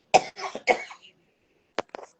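A man with a cold coughs close up in a quiet room, a cluster of rough, throaty coughs followed after a pause by two short, sharp bursts.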